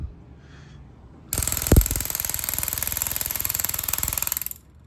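A nitrous solenoid on a Honda Grom motorcycle clicks rapidly and steadily, starting abruptly and buzzing on for about three seconds, loud and close, then stopping.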